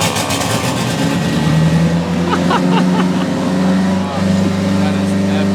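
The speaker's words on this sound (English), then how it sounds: "First startup of the new turbo build minivan." A turbocharged minivan engine idles loud and close right after its first startup, with a steady rumble and a slight rise and fall, while people talk over it.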